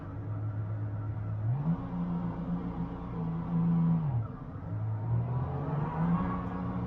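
A Duqueine LMP3 race car in a racing sim drives at Spa, its engine droning steadily and rising in pitch through two clear revving climbs, loud and close with no talk over it.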